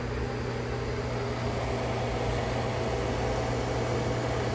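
A 600 watt Commercial Chef microwave running on inverter power gives off a steady, loud broadband hum with fan noise, unchanging and unbroken by talk.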